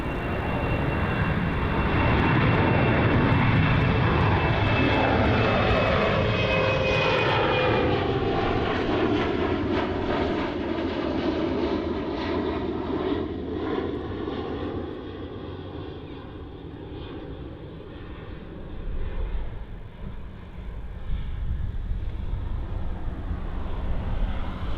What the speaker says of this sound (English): That's quite a 737 rotation there.